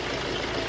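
Fiat Ducato 2.3 turbo diesel engine from a 2013/14 van with 310,000 km idling quietly, a brief steady low hum heard close with no voices.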